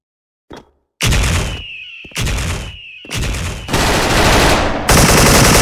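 Bursts of automatic fire from a PREDATOR AK74 rifle in the Special Force shooting game, four or five sustained loud volleys with brief gaps between them, the last one continuing to the end.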